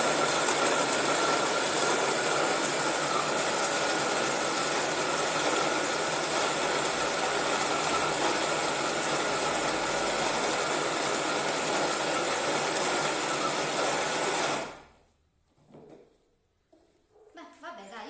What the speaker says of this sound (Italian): e quindi provo a frullare anche le erbe aromatiche